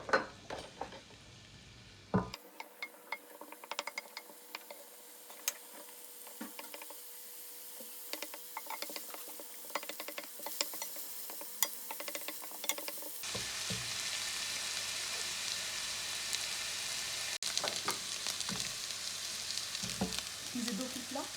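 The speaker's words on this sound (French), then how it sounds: "La moitié d'oignon on va faire revenir dans l'huile bien chaud" Half an onion fries and is stirred in hot oil, giving a steady close sizzle that runs throughout and grows brighter and louder partway through.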